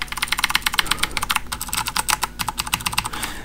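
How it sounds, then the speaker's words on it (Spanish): Rapid clattering keystrokes on a computer keyboard, close and steady, typing without pause for a few seconds with no voices. "Me encanta el teclado."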